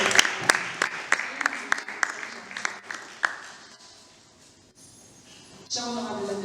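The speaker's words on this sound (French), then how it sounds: "Applaudissez pour le nom." Applause at a Kinshasa student parliament session, beginning as a run of sharp separate claps that thin out and fade, followed by a quiet stretch before a voice speaks near the end.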